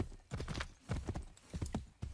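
Horse hooves clip-clop in Assassin's Creed 3, a loud, close, uneven run of hoof strikes coming in clustered bursts throughout, with no speech.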